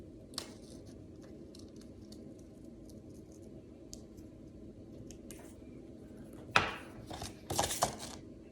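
Scissors snip through paper during craft work on a mini Preston Market model, with quiet scattered clicks and then a few louder, sharper cuts near the end.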